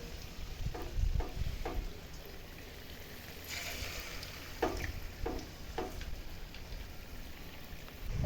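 Bhajiya fritters frying in hot oil, a steady crackling sizzle with sharper pops at intervals, fairly close and alone without speech.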